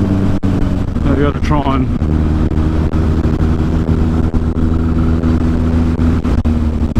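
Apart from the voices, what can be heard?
Yamaha XS1100 cafe racer motorcycle engine ridden in fifth gear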